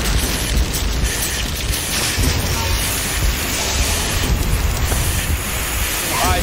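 Fire roaring inside a burning building during a stunt challenge: a loud, steady, dense rush and rumble that fills the whole stretch without a break, with no clear voices over it.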